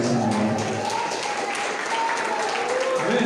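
Church congregation applauding steadily during a service, a continuous dense clapping wash with a voice speaking over it throughout.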